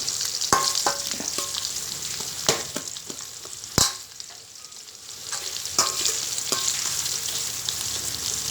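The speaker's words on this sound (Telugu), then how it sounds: "ఉల్లిపాయలు, పచ్చిమిరపకాయలు వేయించుకొని దోరగా వేయించుకోవాలి" Onions and green chillies sizzle steadily in a hot pan, a constant close crackling hiss broken by sharp clacks of a spoon stirring against the metal; no voices.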